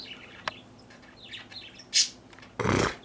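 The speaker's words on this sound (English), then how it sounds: "my birds are singing because I started talking" Two pet birds chirp and call back and forth indoors, with scattered short tweets and a louder, longer burst of chattering song near the end, fairly close and without talk.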